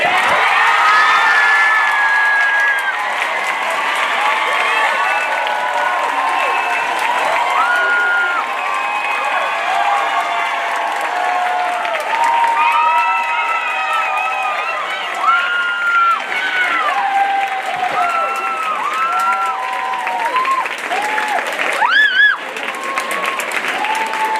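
An awards ceremony audience bursts into sustained applause and cheering for a winner on stage, dense clapping with whoops and shouts holding loud and steady throughout, a few excited voices rising above the crowd.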